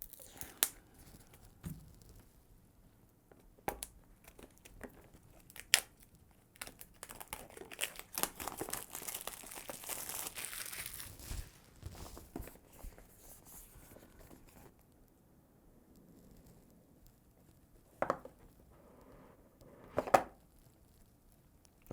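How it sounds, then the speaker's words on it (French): Packaging of counterfeit AirPods Pro being unboxed, with faint intermittent crinkling, tapping and rustling of box and plastic, a few sharper clicks, and a denser burst of crumpling partway through. "On va du coup déballer ces AirPods du Dark Web."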